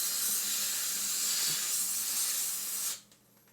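On an overheating PC under torture testing, liquid boils off with a loud, continuous steamy hiss and crackle close by, then cuts off sharply near the end and leaves only faint background noise.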